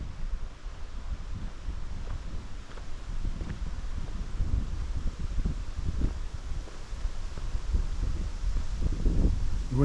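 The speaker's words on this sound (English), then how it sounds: "The wind is pretty big up here today." Strong wind gusting across the open high country of Grand Mesa, Colorado, in fall, a steady loud roar with rumbling buffets against the microphone throughout.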